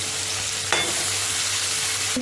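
Green onions sizzle loudly in hot oil in a pan for pasta masala, a dense close hiss with a brief stirring knock partway through.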